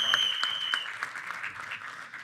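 Audience applause at a film trailer launch event in Mumbai, a steady wash of clapping from a crowd lasting the whole moment, with a faint voice briefly audible early on.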